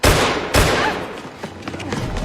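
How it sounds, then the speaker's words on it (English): In a tense Night Agent film chase, a loud, sharp gunshot bursts out and is quickly followed by a second crack, with scuffling and movement continuing afterward. "Mateo retaliates by firing a gunshot"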